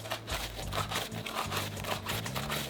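Adidas Nite Jogger shoes rustle and crinkle steadily, like plastic rubbing on cheap paper, a soft continuous scratchy texture heard up close at low volume.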